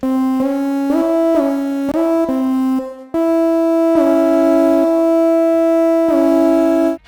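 A synth patch built in Serum from sine and saw wavetables, playing a loud, bright sustained melody of stepped notes with short repeated notes first, then longer held tones.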